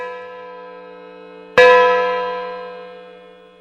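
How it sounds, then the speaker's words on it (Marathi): A single deep church bell strike, the last of twelve, rings out after a fading earlier toll, its long resonant hum slowly decaying. "बरोबर बारा वेळा घंटा वाजून बंद झाले"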